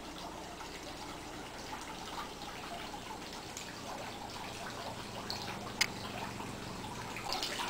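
A garden fountain trickles softly outdoors, a faint continuous patter of water with occasional small drips, quiet and close.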